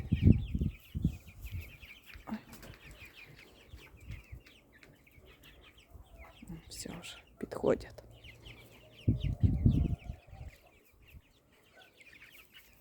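Chickens cluck and squawk nearby in scattered bursts, with a person speaking briefly and some handling noise in between.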